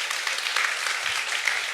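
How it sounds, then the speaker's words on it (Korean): Audience members at a heritage talk concert applaud a history lecturer, a short spell of steady, even clapping heard alone at moderate volume. "최태성 선생님께 다시 한번 큰 박수"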